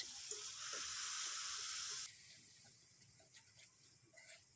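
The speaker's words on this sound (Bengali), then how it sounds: "মশলাকে ভালো মতো কষিয়ে নিতে হবে।" Ground spices with salt, chilli, turmeric and cumin powder sizzle in a hot pan for a cauliflower and fish curry, a bright steady fry for about two seconds that drops to a softer crackle with faint clicks.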